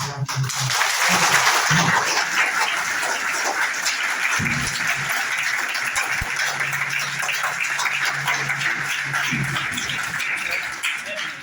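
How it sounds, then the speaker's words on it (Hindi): Sustained applause from an audience at a college Kabir Jayanti event following a principal's speech, steady and dense throughout with faint voices mixed in. "तालियां बजती रहनी चाहिए।"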